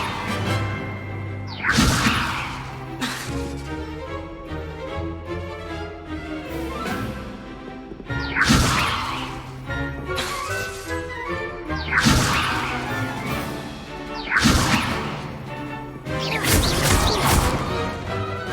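Repeated Levioso spell casts in Hogwarts Legacy strike with sharp whooshing cracks and smashes every few seconds, each burst ringing out over a soft musical backdrop.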